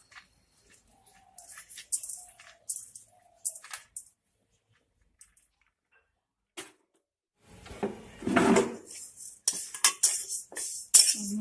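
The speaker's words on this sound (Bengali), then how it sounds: "মুগ ডালটা শুধু খালি কড়াইয়ে একটু ভেজে নিতে হবে।" Sparse spoon clinks and scrapes in an empty wok as mung dal is dry-roasted on a gas stove, quiet and intermittent at first, then a louder burst of stirring and rattling grains toward the end.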